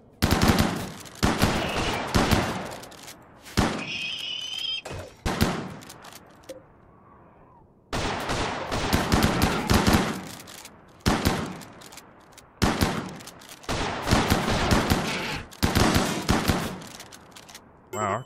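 Rapid bursts of automatic gunfire and single shots crackle in the video game Rimworld, in a Star Wars Tatooine setting at night, with dense volleys broken by a short quiet gap.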